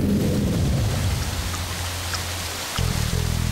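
Heavy rain pouring steadily as a dense, loud wash of noise, with a deeper rumble near the start and again near the end.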